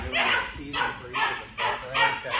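A litter of Doberman puppies bark and yip in repeated bursts indoors, close and fairly loud, with people talking underneath.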